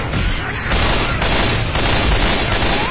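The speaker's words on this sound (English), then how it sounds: "I'm trying to give you cover fire." Dense, loud video game gunfire in Left 4 Dead 2, cover fire in the middle of a zombie fight, rapid shots hammering almost without pause over a constant noisy bed.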